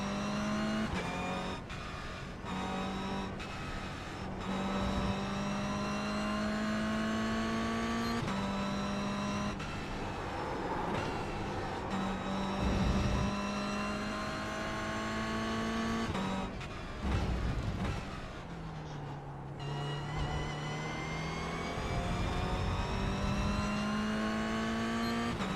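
A racing truck engine pulls uphill in fourth gear, a loud, steady close-up drone that rises and falls with throttle lifts and gear changes, with a brief dip near the corkscrew.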